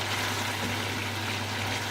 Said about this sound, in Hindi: ये देखिए मसाला भुन रहा है।